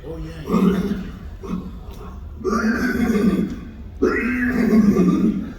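A person imitates a horse's neigh with their voice, three whinny-like bursts with brief pauses between, close and fairly loud.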